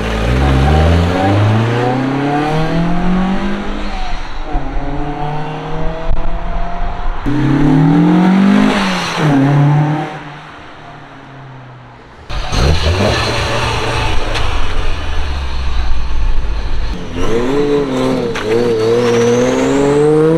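A carbureted Toyota 1G six-cylinder engine with a twin-disc clutch revs hard in loud, repeated climbs and drops, close up, with a brief lull partway through before it roars again.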